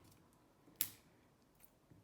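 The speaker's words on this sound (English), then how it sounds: "thankfully I brought over some scissors" Scissors snip once through the plastic wrapping of a Herbcrafter's Tarot deck, a sharp, close single cut with faint rustling afterward in an otherwise quiet room.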